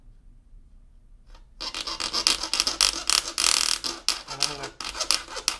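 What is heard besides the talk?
hacksaw cutting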